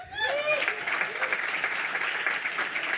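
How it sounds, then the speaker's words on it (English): An audience at a design association's annual meeting claps loudly in a dense, steady wash of applause for the congratulated chapters, with cheering mixed in and a voice briefly audible at the start. "like you all are whooping and clapping"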